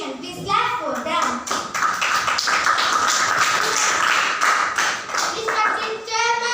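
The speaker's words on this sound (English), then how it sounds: "Please clap for them." A school assembly audience applauds, with many hands clapping in a dense, sustained burst. Children's voices and chatter mix in under the applause.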